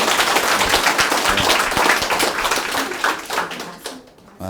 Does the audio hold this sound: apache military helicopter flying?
no